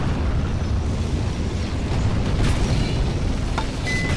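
Tank cannon fire in War Thunder from an MBT-70, a heavy booming blast with a rumbling tail under continuous low battle noise, with sharper cracks a few seconds in.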